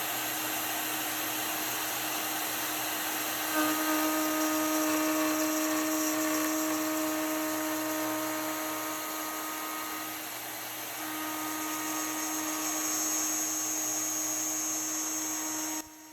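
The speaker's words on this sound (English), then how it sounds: "I use the shaper origin to rough out the shape before moving on to the Bridgeport mill." A Shaper Origin handheld CNC router roughs out solid brass poles, giving a steady high-pitched whine with constant tonal hum that runs unbroken for about sixteen seconds and then cuts off abruptly.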